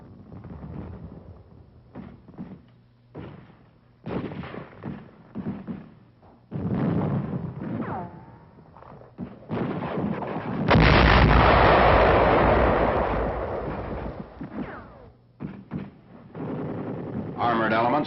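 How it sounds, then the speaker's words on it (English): Point-blank gunfire and artillery blasts hit a German strong point in WWII Aachen, with sharp shots scattered throughout and a heavy, rumbling explosion in the middle, under a narrating voice. "Point-blank fire is directed against one of the last German strong points."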